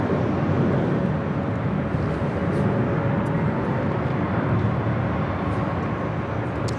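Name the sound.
airliner taking off at Los Angeles airport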